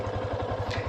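Clutch-type motorcycle engine idling at low rpm during a slow U-turn, a steady close-up pulsing thrum with regular low beats and a faint mechanical clatter on top, no talking.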